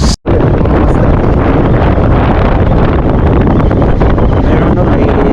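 Strong wind roars across the microphone at sea on a fishing boat, a loud, continuous rushing that starts after a brief cut and holds steady throughout.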